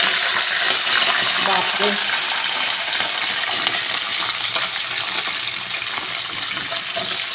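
Michuri greens hit hot oil seasoned with panch phoron and set off a loud, steady, close sizzle that hisses on for several seconds and eases slightly toward the end. A voice briefly exclaims over it.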